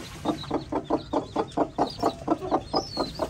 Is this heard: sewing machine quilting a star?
no